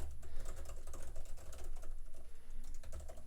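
Fingers type rapidly on the keys of an Apple Magic Keyboard for the M4 iPad Pro 13, a close run of crisp, soft clicks in an uneven rhythm, with no talking.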